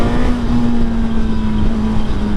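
A 2025 Honda CB1000 Hornet SP inline-four with an exhaust valve, its exhaust holding a steady, loud, close hum at constant revs for the whole moment, with no one speaking.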